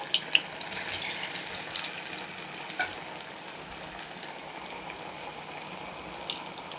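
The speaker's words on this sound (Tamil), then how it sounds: "எண்ணெயில் போட போகிறோம்." Soya bean vadai batter made with gram flour and meal maker frying in hot oil, a soft continuous bubbling sizzle with a few small clicks, fairly faint and with no speech.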